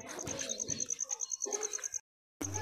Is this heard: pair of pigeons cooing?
yes